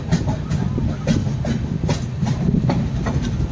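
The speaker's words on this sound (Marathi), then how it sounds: "पूर्ण आपली गाडी आता निघते आहे." Diva passenger train pulling out of Chiplun station on the Konkan line: a steady low rumble with rhythmic clickety-clack of wheels over rail joints, close and continuous, with no talk.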